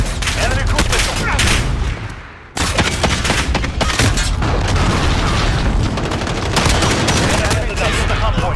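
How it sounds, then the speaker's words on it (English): A cruise missile strike in Call of Duty: Modern Warfare brings loud booming explosions layered with rapid gunfire bursts, a dense continuous barrage with a brief dip before the blasts resume. "Enemy cruise missile."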